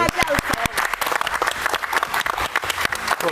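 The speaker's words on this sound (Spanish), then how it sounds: "le damos un aplauso a Gianpietri" Applause from a television studio audience during a live Peruvian political program, a burst of sharp individual claps thickening into steady clapping, with voices underneath.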